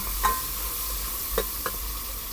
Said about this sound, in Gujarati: આપણે મરચાની કટકી નાખી દઈએ, લસણ પણ નાખી દઈએ.